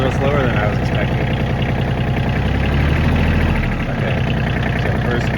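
A Kioti CK27 compact tractor drives forward in first gear, its engine a loud, steady low rumble close by, with a brief dip near the end.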